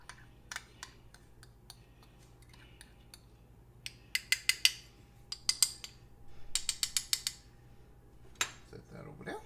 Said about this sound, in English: But mix this up some more.